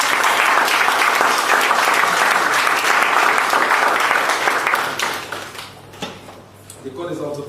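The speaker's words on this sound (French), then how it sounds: "Je vais souhaiter des acclamations en continu." An audience at an entrepreneurs' school graduation bursts into loud, continuous applause that fades after a few seconds into scattered claps and a voice.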